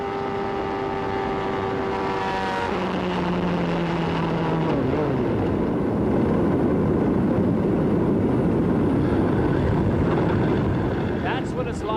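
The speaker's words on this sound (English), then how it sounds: "That's what it's like to hear an engine blow, begin to disintegrate." A 1994 IndyCar engine blows and disintegrates during the Michigan 500. High sustained engine tones hold, then slide downward and break off into a rough, noisy mechanical roar that continues steadily to the end.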